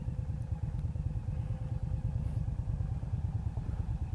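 A 2018 Indian Scout Bobber motorcycle being ridden at a demo day, its engine putting out a steady, pulsing low throb with a faint mechanical clatter, fairly quiet and continuous with no talk.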